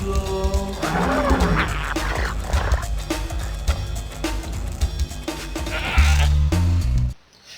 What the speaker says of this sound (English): What are they planning on doing to that goat?